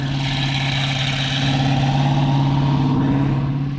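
A loud gasser-class racing car engine idles at a car show, a deep rumbling, lumpy low-pitched throb held steady and close throughout, with no talk.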